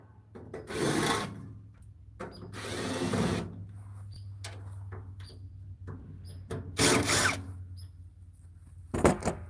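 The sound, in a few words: power drill driving screws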